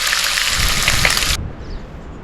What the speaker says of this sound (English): a little rainy in Oregon this morning